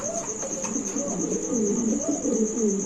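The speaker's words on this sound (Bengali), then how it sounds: "এখানে আছে একজোড়া মুন্ডিয়ান কবুতরের বাচ্চা" A pair of young Mundian pigeons coo in low, wavering phrases close by, over a constant high insect-like whine, with no one speaking.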